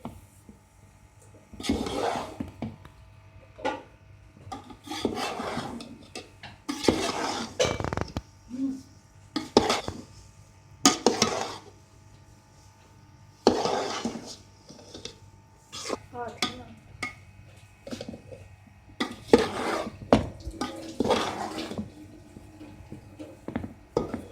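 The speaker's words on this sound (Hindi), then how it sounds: "इसको अब अच्छे से मिक्स करेंगे।" Ground flaxseed stirred into semolina in a pan, irregular scraping and clinking strokes in bursts with pauses between, under occasional talk.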